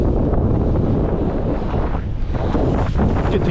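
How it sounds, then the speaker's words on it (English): Strong winter wind from the northeast roars across an outdoor spot near water, buffeting the microphone in a loud, dense, unbroken rush with no speech. "Wind is blowing this way, as it should in the winter, northeast,"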